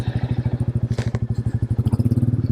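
A Royal Enfield Meteor Ultra Low 350 single-cylinder motorcycle with a cat-delete exhaust idles close by in a steady, loud, rhythmic thump, with a brief clatter midway.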